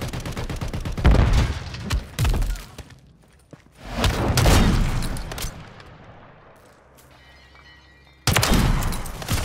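Sniper rifle shots in an online shooter video game: several loud, sharp booming reports in irregular bursts with decaying tails, separated by quieter gaps, and a final blast at the end.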